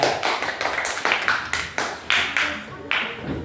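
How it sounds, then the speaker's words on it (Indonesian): A class of young primary school pupils claps hands together in a classroom in short, rhythmic bursts of close, sharp claps. "Tepuk tangan."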